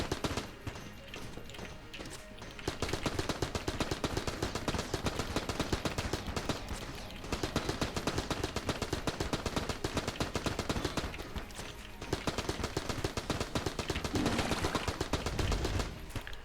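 Rapid, dense bursts of cartoonish gunfire from a bullet hell boss fight in the video game Enter the Gungeon, crackling in long continuous volleys with brief lulls between waves, steady and fairly loud throughout.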